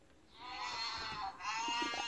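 A goat bleats in one long, wavering, nasal call that breaks briefly and resumes, fairly close and alone without talk.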